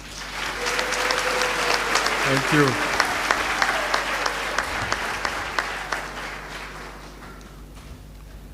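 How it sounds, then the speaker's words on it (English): Graduation ceremony audience at the Tshwane University of Technology applauds steadily in a large hall, dense sustained clapping throughout with a brief spoken thanks over it. "Let's clap hands for this doctor."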